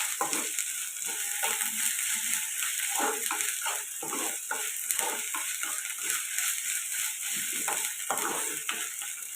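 Ginger garlic paste fries with onions in a pan for an egg curry, giving a steady close sizzle broken by repeated scraping stirs throughout.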